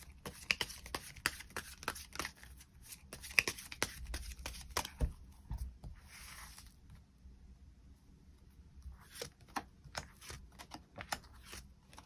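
Tarot cards being shuffled and drawn make soft, irregular papery flicks and riffles, close and quiet, with brief slaps and snaps scattered through a near-silent room.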